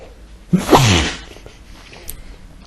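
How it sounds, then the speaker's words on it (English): A single loud, close sneeze bursts out after a brief quiet, followed by faint background noise. "A sneeze coming on, hang on."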